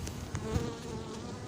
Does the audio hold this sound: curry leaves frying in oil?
no